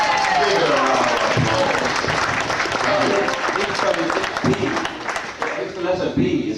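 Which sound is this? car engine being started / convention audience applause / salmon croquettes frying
convention audience applause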